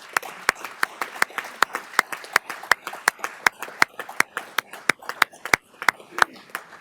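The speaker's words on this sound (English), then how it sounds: "I wanted to give them a grateful round of applause" A small crowd claps steadily for a judge's family standing at a judicial investiture ceremony, each clap sharp and distinct, moderately near and sustained for several seconds without voices over it.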